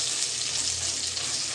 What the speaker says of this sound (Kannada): ಈಗ ಚೆನ್ನಾಗಿ ಫ್ರೈ ಮಾಡಬೇಕು